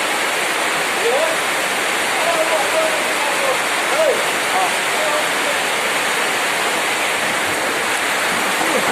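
Steady heavy rain pouring down during a storm in a dense, constant hiss, loud and close, with a few faint voice-like sounds buried underneath.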